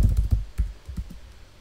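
Keys tapped on a computer keyboard while editing JavaScript code for Phoenix LiveView, a quick close burst of about ten soft, dull strokes in an uneven rhythm, fading toward the end with no talk.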